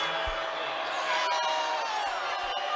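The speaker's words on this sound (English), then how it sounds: "Oh boy, you hear from the crowd here." Crowd in a basketball arena during a Saint Peter's vs. Marist game, a continuous roar of voices that swells slightly midway, heard from a distance with a commentator talking over it.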